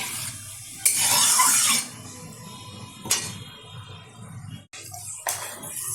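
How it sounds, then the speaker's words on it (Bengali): Peanuts fry in hot oil in a pan, giving loud bursts of crackling sizzle that flare up and die back several times, with quieter stirring and scraping in between. "এখন ভেজে নেব চিনেবাদাম, একটু ভালোভাবে ভেজে নিতে হবে"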